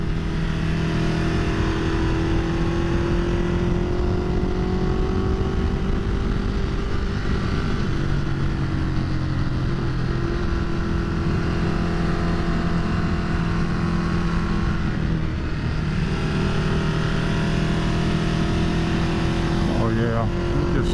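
A 2010 Ducati Multistrada 1200S's engine drones continuously while being ridden, a steady mid-level rumble mixed with rushing wind noise that shifts slightly in pitch as the throttle changes.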